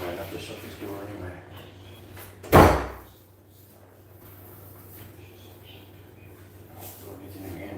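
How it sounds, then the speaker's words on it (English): A house door being painted is shut with a single sharp thud partway through, close and loud, while a person talks before and after it. "I might have to shut this door anyway."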